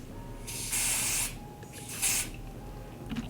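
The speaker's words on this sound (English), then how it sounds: "I'll spray it right here." Two bursts of hair bond spray hiss, each about half a second, close by, with quiet pauses between and a faint rustle at the end.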